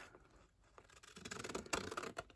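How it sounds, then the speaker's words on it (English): Close, quiet snipping and scraping, a series of short rough cuts gathering pace after a soft pause, like scissors working through paper. "I'm using scissors"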